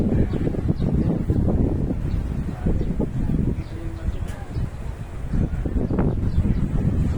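Blustery wind at a beach buffeting the microphone with a low rumbling roar, steady throughout with gusting swells; faint background voices.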